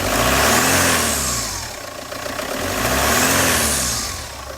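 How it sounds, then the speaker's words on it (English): A Peugeot 406 GTX 2.2 HDI diesel engine revs up twice, rising to a loud roar and falling back to idle between bursts, close by with no talking. "So now if you watch that when I rev the car up"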